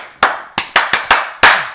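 Five sharp hand claps ring out close and loud, spaced unevenly with a short gap before the last, each snapping cleanly with no talking.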